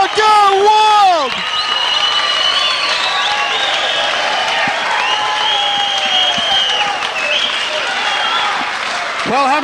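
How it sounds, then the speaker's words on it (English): A kickboxing arena crowd roars and applauds after a first-round knockout, a dense, sustained wave of cheering and clapping with a commentator's voice speaking over it almost throughout. "Listen to the crowd go wild."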